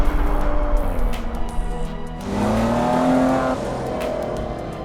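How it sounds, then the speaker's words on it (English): A Maserati engine revs and holds a rising, sustained drone, loud and close with no voices over it. "They tune the signature Maserati sound as well."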